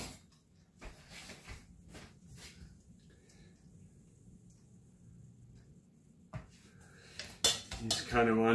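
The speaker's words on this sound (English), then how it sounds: "You just kind of want to coat that bottom of the pan" Metal spoon clinks and scrapes in a pressure cooker pan as meat sauce is spread across the bottom, a few sharp knocks and a quiet scraping stretch in between, close up in a home kitchen.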